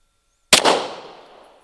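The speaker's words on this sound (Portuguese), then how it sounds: "Eu vou fazer o primeiro disparo da forma correta, apenas movimentando a falange." A single handgun shot fired with a smooth, correct trigger pull cracks sharply after half a second of silence, then echoes and decays quickly; no speech.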